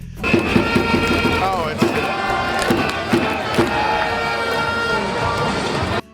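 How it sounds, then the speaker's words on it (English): Yakult Swallows fans in the cheering section at a Japanese baseball game chant and shout in rhythmic unison, loud and dense, with horns or whistles rising through the roar of the crowd. "the fans are cheering the entire game when their team is batting"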